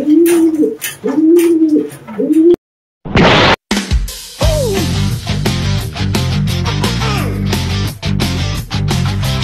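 Soft, repeated racing pigeon coos in a rhythmic series, then a sudden burst of louder, busy noise with flapping and bird calls.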